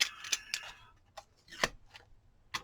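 Scissors cutting a strip of paper during altered-book crafting: a few quick, soft snips and rustles, close and faint, with no talk.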